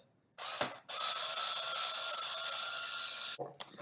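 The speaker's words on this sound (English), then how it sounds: "you simply just need to unscrew them, so removing that" A powered driver whirs steadily for a few seconds while unscrewing the screws that hold an Autoslide motor to its frame, with brief mechanical clicks before and after the long close run.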